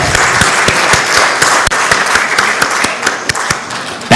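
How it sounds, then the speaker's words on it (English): An audience claps loudly to welcome a session chair at a live-streamed event, with a few sharp, distinct claps standing out above the steady applause. "let's welcome Captain Neil Nair with a big round of applause"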